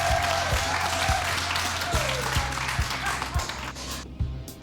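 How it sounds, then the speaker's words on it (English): Audience applause for Lynette at a staged event, steady clapping filling the clip, with rhythmic thumping music underneath that fades toward the end. "Ladies and gentlemen, give a round of applause to Lynette"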